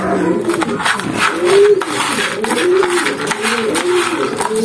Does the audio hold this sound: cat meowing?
no